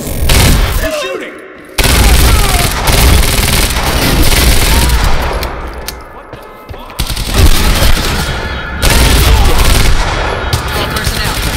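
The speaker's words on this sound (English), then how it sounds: "He's shooting!" Loud gunfire rings out in the action game Quantum Break, in a facility garage: dense automatic bursts and booming shots in waves, briefly broken by short gaps, with voices shouting beneath.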